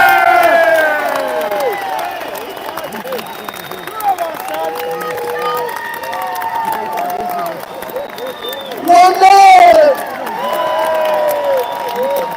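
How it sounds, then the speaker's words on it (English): Large crowd at a London street march cheering, whooping and applauding, with loud shouts swelling near the end over ongoing clapping; a voice talks over the noise in places. "give this young man a massive, massive cheer and round of applause"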